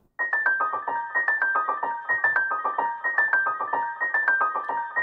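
A simple synth arpeggio cycling through a short descending pattern of bright plucked notes, repeating steadily and evenly, clear and alone.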